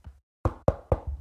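Three sharp, close knocks on a door land in quick succession after a brief silence, each crisp and resonant.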